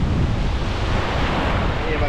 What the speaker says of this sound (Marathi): हे बघा याला येणाऱ्या लाटा.